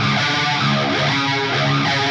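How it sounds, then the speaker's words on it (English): Electric guitar played through a Tube Screamer overdrive and a flanger, giving a continuous, sustained distorted tone with a slowly sweeping, swirling modulation, loud and alone without any talk. "And had the Tube Screamer on for a little bit of distortion."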